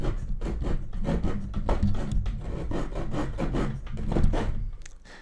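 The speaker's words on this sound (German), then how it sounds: "Auf der anderen Seite geht es gleich weiter mit der Säge." A Victorinox multitool saw cuts through wood in rapid back-and-forth strokes, a rough, close, moderately loud rasping rhythm that continues steadily, catching slightly now and then.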